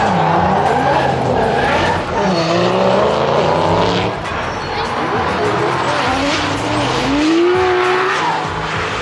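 A professional competition drift car slides around a drift track, engine revving hard and tires squealing in long wavering screeches, loud and continuous, with voices faintly underneath.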